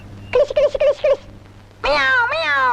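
A cat gives a short series of quick, clear meows, then after a brief pause a longer, drawn-out, wavering meow close by.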